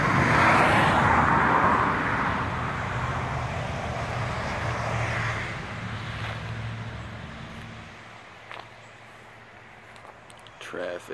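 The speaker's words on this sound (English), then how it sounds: "Traffic galore." Heavy street traffic passes outside a multi-family house on Front Street, a loud broad roar of vehicles that swells early and gradually fades, with a voice speaking over it and brief knocks near the end.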